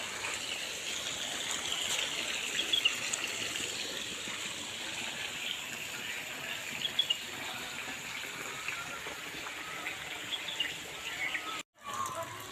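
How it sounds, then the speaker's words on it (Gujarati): Rainwater from heavy rain flows continuously, a broad even rushing hiss, with faint bird chirps above it and a brief dropout near the end. "વરસાદનું પાણી કેટલું છે, ખૂબ બધો વરસાદ આવી ગયો"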